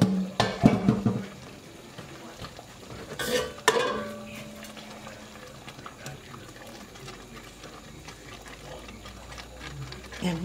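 Noodles going into a pot and being stirred, with clattering utensil and pot knocks at the start, then quieter wet stirring over a low hum, nearby without talk.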